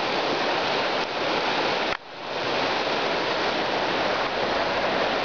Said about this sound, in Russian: Вот такая маленькая тихая речка.